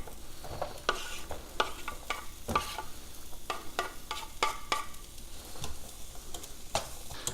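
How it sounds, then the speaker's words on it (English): Peppers and onions hit a hot pan and sizzle steadily at low level, punctuated by repeated sharp scraping and clacking strokes from stirring. "I'll get my peppers and onions in."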